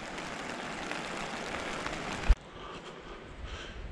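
Steady rain hisses during a mountain climb above Bhim Dwari on the Shrikhand Mahadev trek. The hiss breaks off with a brief thump and continues softer and muffled.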